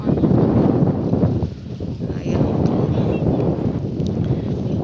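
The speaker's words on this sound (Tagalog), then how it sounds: "Napakaalon po at napakahangin dito." Strong, steady wind roars and buffets the microphone over rough sea waves, loud and continuous with only a brief dip.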